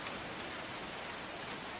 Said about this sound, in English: I love sitting inside listening to the rain.